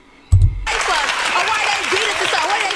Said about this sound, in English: these kids are going to just clap for every decent point that's made by either a racist or a normal person